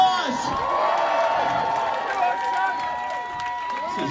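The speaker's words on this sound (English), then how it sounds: "Give yourselves a round of applause." A crowd cheering and whooping with applause at a live concert in London, a continuous roar of many voices filling the space.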